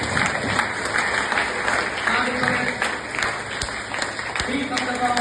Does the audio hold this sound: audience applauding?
yes